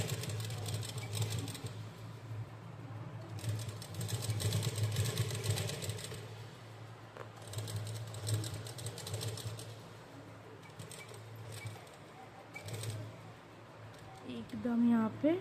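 A sewing machine stitches along the neckline edge of an umbrella frock, a steady mechanical whirr coming in bursts with short pauses while a voice talks over it.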